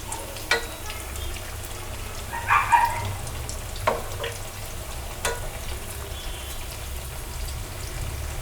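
Jackfruit seed vadas deep-fry in hot oil with a steady bubbling crackle. A few louder pops and clinks of a utensil break in now and then, and no voices are heard.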